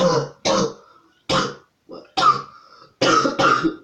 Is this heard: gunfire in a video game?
no